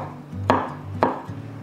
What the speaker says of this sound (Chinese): 另外一半的洛梨切片